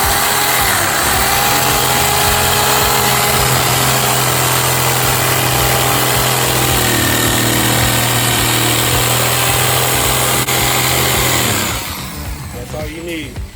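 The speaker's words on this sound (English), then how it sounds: "I unplugged our skill saw and plugged in the jigger just to get this sweet little corner" A jigsaw, swapped in for a circular saw, cuts a small corner in wood for a custom center console, a loud steady motor whine with a constant buzzing drone running about eleven seconds, then cutting off into quieter room noise.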